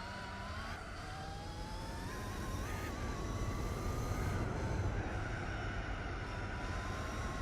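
A car engine in the racing video game Gran Turismo 4 revs and holds a high, droning note with rising pitch sweeps, steady and fairly quiet, with no talking over it.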